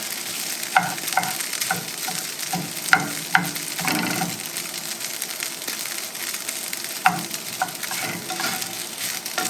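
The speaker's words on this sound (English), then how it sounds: "I usually turn it down on really low and just keep kind of stirring it and breaking it up" Boudin sausage fries on low heat in a pan while being stirred and broken up, a steady dense sizzle with intermittent sharp scrapes and taps of the spoon, close and continuous.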